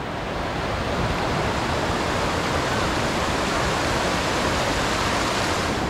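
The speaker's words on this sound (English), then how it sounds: "Just for your information about this waterfall," A waterfall in Pai, Thailand, swollen after heavy rain, roars as a loud, dense, unbroken rush of falling water close by, with no pauses or other sounds.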